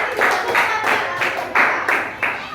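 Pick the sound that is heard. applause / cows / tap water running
applause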